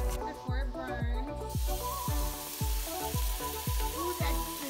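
Rice browning in a pan with tomato sauce, sizzling and frying steadily with a bright hiss, while music with a strong rhythmic beat plays loudly over it.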